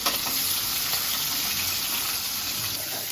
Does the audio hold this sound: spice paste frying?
yes